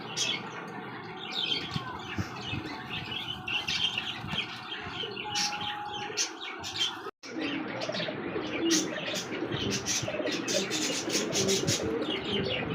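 Arabian Koka pigeons cooing in a loft, with a steady layer of chirps and coos, soft rustling and occasional wing movement, fairly close and continuous throughout.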